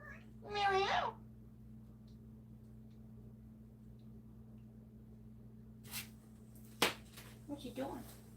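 A pet cat named Mary Marmalade gives one short, clear meow near the start in a quiet indoor room, followed by a long near-silent stretch and a few faint, brief noises toward the end.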